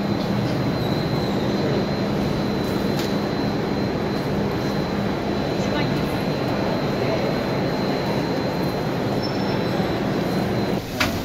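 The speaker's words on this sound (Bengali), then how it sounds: "পৃথিবীর একমাত্র স্কাই ট্রেন, শুধু জার্মানিতে, পৃথিবীর অন্য কোনো দেশে আমি দেখি নাই" Suspended sky train passing in Germany, a continuous loud rumble of wheels and rail with a faint high whine and scattered metallic squeals throughout, heard fairly close.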